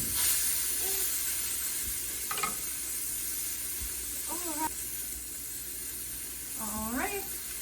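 A tuna steak, just flipped, sizzles and fries steadily in a hot pan for tacos, a constant broadband hiss with a few brief scraping stirs and faint background voices.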